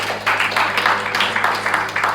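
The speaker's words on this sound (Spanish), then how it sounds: "Denle un aplauso al Señor." A church congregation claps in applause for an arriving speaker, a brief burst of steady, rhythmic handclaps from a gathered crowd heard fairly close.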